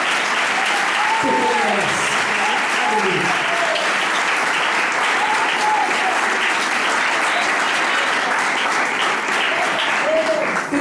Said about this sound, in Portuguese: Aplauda esse Deus com muita força